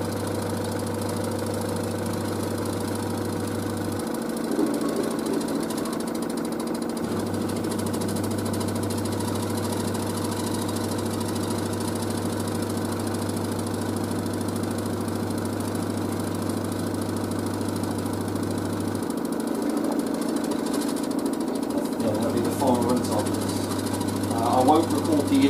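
An LG DirectDrive F1496AD washer dryer runs a spin cycle, giving a steady mechanical hum and whir with a low tone that stops and restarts twice. It sounds close and constant, with faint background noise.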